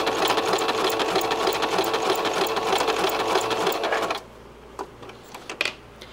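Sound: sewing machine zig-zag stitching a patch appliqué

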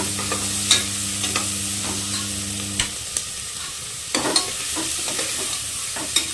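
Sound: ginger garlic paste frying in a pan

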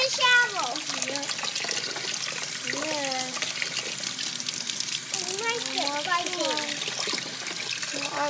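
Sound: cold running water

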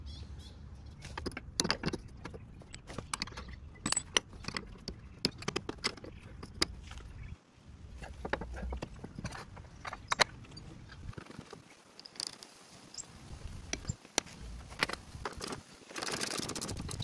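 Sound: fitting nuts and bolts to Range Rover steering damper

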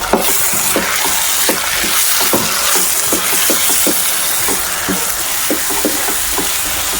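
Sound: masala frying in oil in pan

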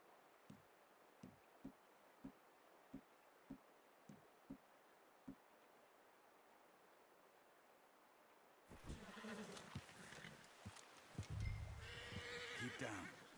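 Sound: horse whinnying in video game Red Dead Redemption 2

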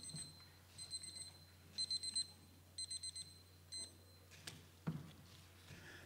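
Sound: timer alarm beeping

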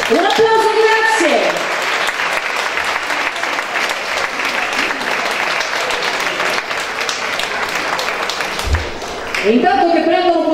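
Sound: audience applause for dance school

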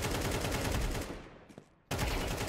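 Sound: gunfire bursts in a video game

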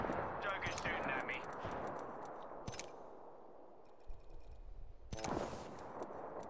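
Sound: gunfire in the video game Apex Legends

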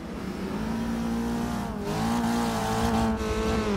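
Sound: touring race car engine in racing video game

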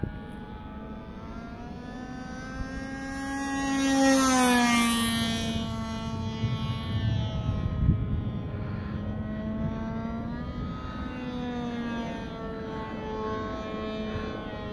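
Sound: gas-powered RC model airplane flying

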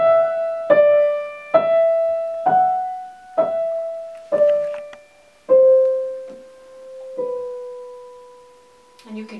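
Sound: piano right-hand line, Rachmaninoff Prelude Op. 32 No. 5

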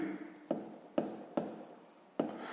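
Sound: writing on paper

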